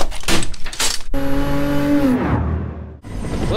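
A 2016 BMW M6 endurance race car in Gran Turismo 7 revs hard, a loud near engine whine holding steady pitch then dropping sharply as it shifts, after a brief burst of rattling noise.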